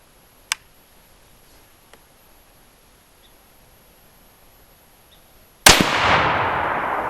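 A Remington 700 SPS rifle with factory barrel, chambered in .308 Winchester and firing Varget-loaded 168-grain Hornady reloads, goes off once with a loud, sharp blast that rings out in a long decaying tail, after a quieter earlier crack and a faint tick.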